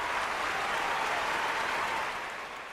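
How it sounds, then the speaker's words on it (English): Applause sound effect for a punter on a college football podcast covering Auburn versus Baylor: a dense, even wash of clapping that holds steady and then fades slightly at the end, fairly quiet, with no voices over it. "Let me give you a clap for that one, bro."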